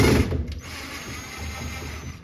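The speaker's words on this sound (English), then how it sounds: "start unscrewing all this stuff" A power driver whirs steadily at close range, backing screws out of the interior of a 1959 Chevy Impala, with one louder burst at the start.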